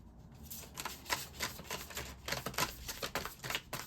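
Oracle cards being shuffled by hand in a quiet room, a close series of soft papery riffles and flicks in an uneven rhythm, with no voices.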